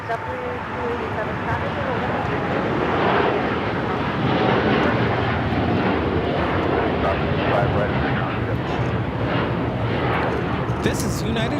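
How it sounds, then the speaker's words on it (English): United Airlines flight 198, a Boeing 787-9 Dreamliner, takes off from LAX for Shanghai, its dense jet roar swelling and staying loud across the whole stretch while a voice talks over it. "This is United Airlines 198 taking off to Shanghai on the 787-9 Dreamliner."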